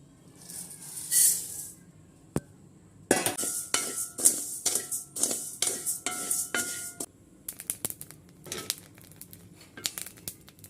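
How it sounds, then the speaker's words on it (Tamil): Black kavuni rice roasts in a pan, giving a rapid run of crisp clicking pops and rattling strokes, close and fairly loud, with brief pauses between bursts; no talking. "அரிசி பாருங்கள் பொறிஞ்சி வருது"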